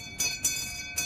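A door bell rings three times in a short burst, bright metallic chimes with lingering ringing tones, close and clear.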